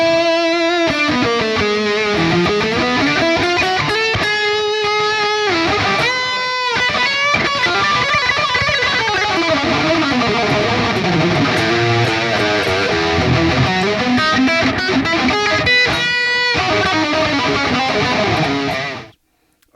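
An electric guitar plays a continuous flowing line through layered delays, washed in repeating echoes, notes smearing and trailing into one another for nearly twenty seconds before cutting off.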